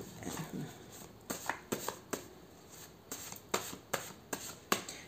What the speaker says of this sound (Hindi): ओके, थोड़ा सा कार्ड मिक्स।